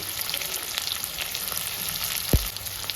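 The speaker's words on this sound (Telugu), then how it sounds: "ఆయిల్ ఫ్రై అయింది కదా ఉల్లిగడ్డలు వేసుకుంటున్నా" Large onions dropped into hot oil for a Telugu chicken fry, sizzling steadily throughout with a sharp hiss burst near the end as they hit the pan, no talking.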